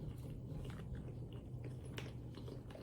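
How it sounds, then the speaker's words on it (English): Someone chews a mouthful of cooked, tender green banana up close, with soft, moist mastication and a few faint bites in a quiet room. "I'm gonna taste the green banana."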